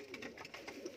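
Dabbwale pigeons on sale in India give soft, repeated coos over about a second, close by with a faint background hum.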